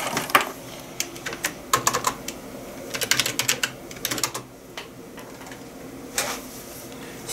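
Typing on a computer keyboard plugged into a Ginzzu 7-port USB hub: close, crisp key clicks come in quick irregular bursts separated by short pauses, with a louder clack near the end.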